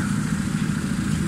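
A 1994 Honda car engine idles steadily up close, a continuous low rumble with a light mechanical clatter, alone with no talk.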